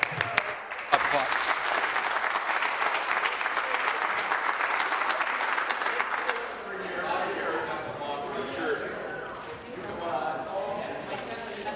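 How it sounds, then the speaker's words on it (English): Dense clapping sweeps a legislative chamber during question period, loud and sustained for several seconds, then fades into crowd murmur and voices. "Applause."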